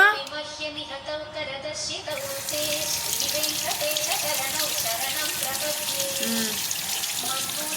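Tap water runs steadily into a sink while a mixer jar and its black gasket are rinsed during coconut chutney preparation, a continuous splashing hiss under intermittent voices giving instructions.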